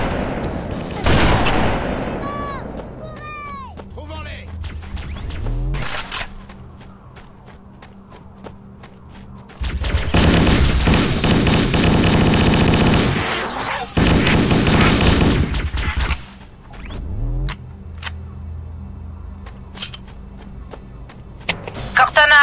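Bursts of gunfire in Halo 1 erupt in two long, loud volleys amid battle noise, with soldiers' radio chatter and footsteps between the rounds of shooting.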